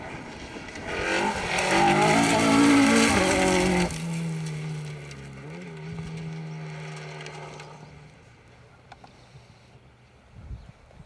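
Rally car on a Welsh rally stage at the Plains Rally, engine roaring loudly as it sweeps past close by over a few seconds, then fading away into the distance.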